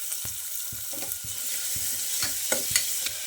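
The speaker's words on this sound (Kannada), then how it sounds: "ಈರುಳ್ಳಿ ಫ್ರೈ ಆಗಿದೆ." Chopped onion frying in about two spoons of coconut oil inside a pressure cooker, a steady close sizzle broken by several sharp scrapes and knocks of a spoon stirring against the metal.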